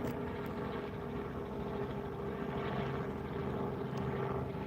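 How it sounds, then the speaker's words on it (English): A small helicopter passes overhead outdoors, a steady, muffled rotor drone that holds at even loudness throughout with no talking. "Cute little helicopter going above our heads."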